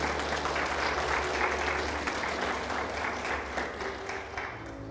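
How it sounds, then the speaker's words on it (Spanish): A church congregation applauds steadily for about five seconds during a Spanish-language sermon, a dense, even wash of many hands clapping with a low hum beneath and no speech. "Denle un aplauso a la palabra del Señor."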